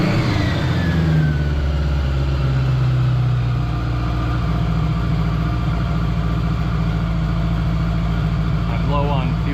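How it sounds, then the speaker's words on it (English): Honda Goldwing motorcycle engine under head-porting work cranks and catches at the start, then settles into a steady, loud idle that runs unbroken, with a person talking over it. "in theory the engine should start"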